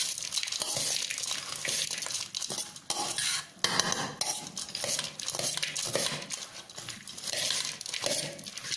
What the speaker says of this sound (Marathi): व्यवस्थित मिसळून झाली आहे ही, 3 जणांना पुरेल एवढी भेळ